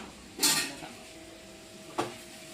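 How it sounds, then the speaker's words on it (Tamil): Stirring brinjal and drumstick curry in a cooking pot gives two brief, close metallic clanks about a second and a half apart, with quiet kitchen background between them and no talking. "கொஞ்சம் நல்லா மிக்ஸ் பண்ணிக்கோங்க."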